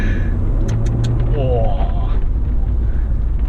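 A steady, low engine hum drones inside a BMW 520i E39 with a 2.2-litre straight-six at low revs, smooth and even throughout.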